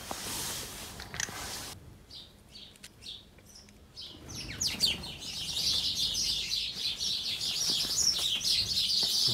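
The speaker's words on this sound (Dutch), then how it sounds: "Vogeltjes hier," Small birds chirp and tweet outdoors, with bright, busy calls that build from sparse notes into a dense, steady chorus, heard at moderate distance during a Tomos moped light-switch repair with a soldering iron.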